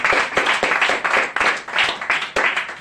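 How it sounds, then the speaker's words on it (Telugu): A congregation claps loudly in praise at a church service, with hard, rhythmic bursts of many hands repeating several times a second. The clapping is close and dense, with no talking over it. "గట్టిగా చప్పట్లు కొట్టి దేవుని స్తోత్రం"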